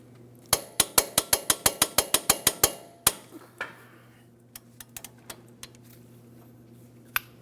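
A wrench ratchets in a fast run of about a dozen sharp metallic clicks while tightening a brake hardware bolt on a 2003-2008 Toyota Matrix. A final heavy clunk follows, then a few scattered taps, all close and loud.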